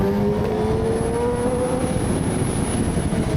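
A motorcycle approaches from far off on a downhill mountain road, its engine a steady rising whine that stays distant under a continuous low rumble, with no talk.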